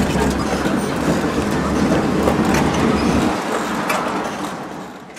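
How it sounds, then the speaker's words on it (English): Tuk-tuk ride in Beijing from the passenger seat, a steady loud rumble of engine and road noise with rattling, easing off toward the end. "Tuk-tuk ride passenger view."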